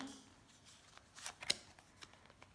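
A tarot card is drawn from the deck and laid on a spread, giving soft faint card slides and a few light flicks and taps in a quiet room.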